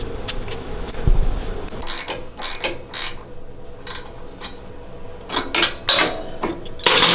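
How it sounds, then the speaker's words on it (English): A crusty ball joint nut being tightened on a twin 18hp engine buggy, with a run of sharp ratcheting clicks and metallic bursts in uneven strokes, close and loud, no talking. "So now we can tighten up our ball joint all the way"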